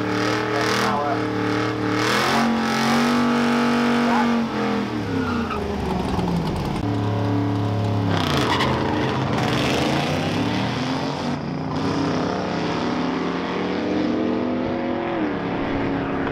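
Datsun drag racing car making a quick run at a drag strip, its engine screaming through rising gear changes and tire noise, then roaring away and fading, with crowd and announcer sounds in the background.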